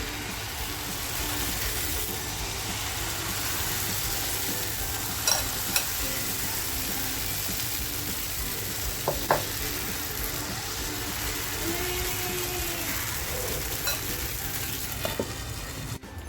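Jowar amboli pancake sizzling in a hot pan, a steady, even frying hiss filling the whole stretch, with a few faint clinks of a utensil now and then.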